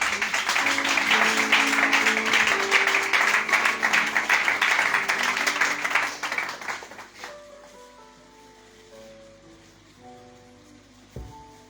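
A church congregation at a harvest celebration in Adiaké claps loudly in dense, sustained applause that fades after about seven seconds, leaving soft background music.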